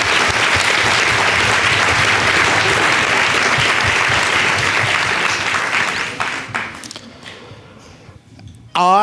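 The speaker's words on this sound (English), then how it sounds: "give them all a round of applause once again" A debate audience at the Apartheid Museum for a June 16 Youth Day event breaks into loud, dense clapping that holds steady, then thins out and fades to scattered claps.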